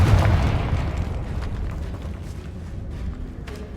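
A Confringo fire spell in Hogwarts Legacy sets off a heavy booming explosion that rumbles and fades over a few seconds, alone without talk.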